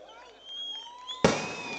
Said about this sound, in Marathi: फटाके थांबवा ना आता